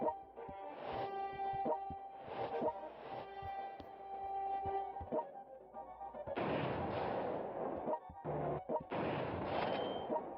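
Booming artillery fire from the strategy war game World Conqueror 3, set in a 1960 USSR conquest campaign, with repeated heavy blasts and dense rumbling volleys over game music, loud and continuous.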